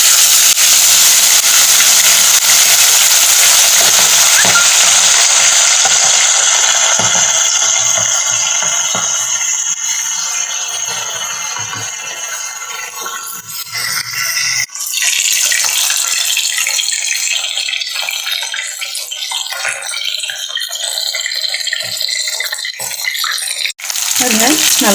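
Chettinad-style fish pieces with curry leaves fry in hot oil with a loud, close, hissing sizzle. The sizzle eases and thins over time, broken by a couple of sharp clicks and pops.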